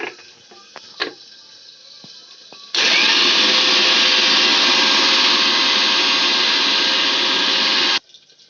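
An electric mixer grinder whirs loudly and steadily for about five seconds as it grinds green chilies and white mustard with a little water into a paste, after a few quiet clinks, then stops abruptly.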